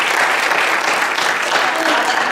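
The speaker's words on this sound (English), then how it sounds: "So let's give her a round of applause." A room full of people applauds steadily for a 13-year-old girl, the guest who delivered the 100 millionth Operation Christmas Child shoebox; dense, even clapping fills the whole stretch without a break.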